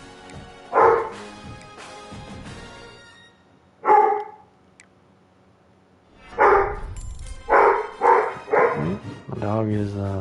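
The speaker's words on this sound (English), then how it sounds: "My dog is being very much a nuisance at the moment." A pet dog barking indoors in a few loud, separate bursts with pauses between, some yips and whimpery tones near the end, and no clear talk over it.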